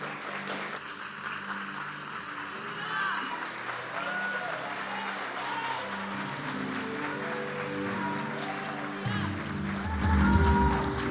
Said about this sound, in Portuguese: Quem crê se coloca de pé e dá um aplauso para o Senhor.